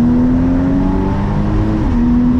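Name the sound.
car engine revving, sports car with open exhaust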